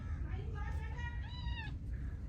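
A cat meows a few times in rising, drawn-out cries, heard over a steady low background rumble and faint voices.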